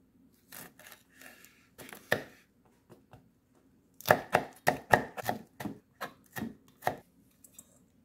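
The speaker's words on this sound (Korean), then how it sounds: "절반은 잘게 다져줄게요." A knife finely minces red chili pepper on a cutting board for a cold cucumber soup seasoning: a few scattered chops, then a quicker run of about a dozen crisp, close strikes.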